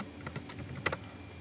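Computer keyboard typing for a Windows 8 command prompt entry: a quick run of soft, close key taps with one sharper double click near the end, fairly faint and with no voices.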